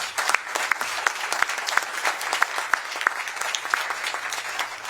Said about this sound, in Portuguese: Eu peço uma salva de palmas aqui ao SUS.